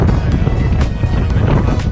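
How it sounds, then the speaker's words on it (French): Strong wind buffets the microphone on an exposed volcanic ridge about 2 km from the Puy de Dôme in the Chaîne des Puys, a loud, steady low rumble with gusty surges throughout. "On est dans le vent."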